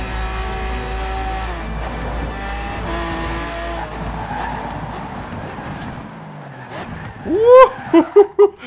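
A sports car in Forza Horizon 4 drives hard with a loud, sustained engine roar, then sharp tire squeals and skids through corners near the end, with brief voice sounds.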